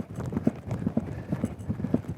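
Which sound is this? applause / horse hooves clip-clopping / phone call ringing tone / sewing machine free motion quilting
horse hooves clip-clopping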